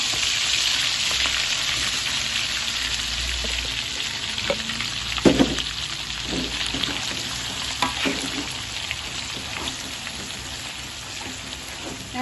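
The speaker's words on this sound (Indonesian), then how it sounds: "kalau kita menggoreng serundeng ini jangan ditinggal ya" Serundeng, spiced grated coconut, frying in a pan alongside galangal chicken in a Minang home kitchen: a steady, close sizzle with occasional sharper clinks and scrapes from stirring, and no voices.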